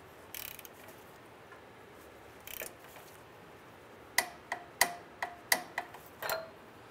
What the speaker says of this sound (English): So now we're going to come back and torque down our Upstream O2 sensor.